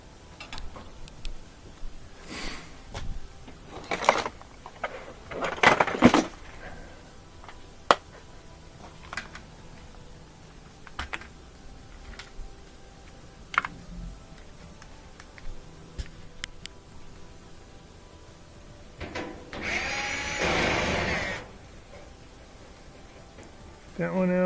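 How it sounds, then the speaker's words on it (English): Two screws being taken out of a gas dryer, with scattered clicks and ticks of the screwdriver and metal parts, a few louder rattles, and a short burst of rustling near the end, all close by. "We'll take out these two screws."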